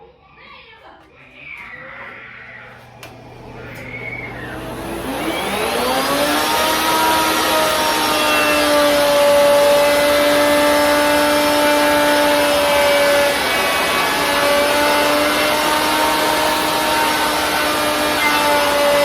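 A router whines steadily at high pitch as it cuts a bullnose edge in wood, a sustained loud machine tone after a few seconds of quieter background sound.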